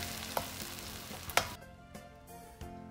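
Ten tablespoons of tomato puree sautéing in a pan for a Singapore chilli prawn curry give a steady frying sizzle, broken by a few sharp clinks and scrapes of stirring.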